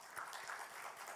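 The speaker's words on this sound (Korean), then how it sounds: "우리가 함께 하나님께 영광의 박수 한번 올렸으면 좋겠어요" Quiet, distant applause from a church congregation at a Friday worship service, a soft continuous patter of many clapping hands without talk.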